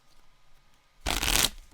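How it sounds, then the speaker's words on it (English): A deck of Arkham Horror game cards is riffled in one quick burst of shuffling, close and fairly loud, following a brief quiet stretch. "Let's shuffle it."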